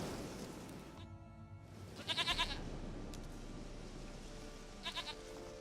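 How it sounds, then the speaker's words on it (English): A goat in The Witcher 3 bleats in two separate bursts, a longer wavering cry near the middle and a shorter one toward the end, set against steady outdoor game ambience with no one talking. "Goat of mine, dearest, sweetest goat."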